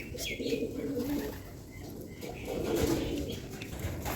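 Pigeons in a small mini-zoo loft coo softly in two low, rolling bursts, with faint chirps and wing movement around them and no talking.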